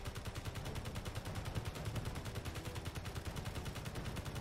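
A turret fires rapidly in Space Engineers during missile warfare, a fast, even stream of gunshots that repeats steadily throughout, fairly quiet and set against a low rumbling background.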